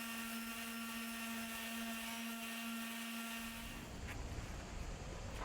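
Steady whine of a power sander with 80-grit paper grinding an epoxy tabletop, then shifting to a rougher, broadband scraping as the pitch drops; continuous, close, no talk.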